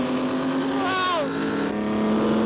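A vintage Formula 1 race car at Silverstone roars past beneath a bridge, its high engine note sweeping down in pitch as it passes, over steady engine drone with a voice talking.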